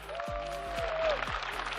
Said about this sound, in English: one more round of applause for Light